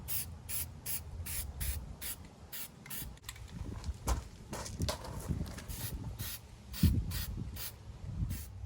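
Flat black spray paint hissing from an aerosol can in short repeated bursts onto cabinets, each spray about half a second with brief gaps, close and steady.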